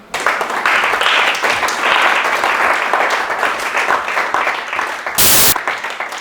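A church congregation bursts into loud, sustained applause to acclaim the Lord, dense clapping from a large crowd that holds steady throughout, with a brief louder burst near the end.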